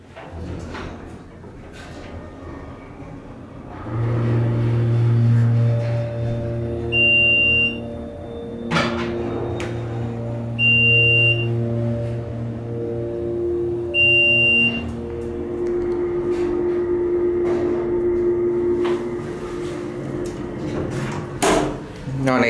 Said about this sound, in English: Alright, listen to the motor.